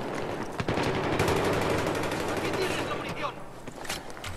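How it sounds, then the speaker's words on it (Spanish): Rapid automatic gunfire from a P90 in the video game Battlefield 3, sustained bursts rattling steadily for several seconds amid other battlefield noise, with a voice talking over it. "A ver, este tío está disparando a alguien."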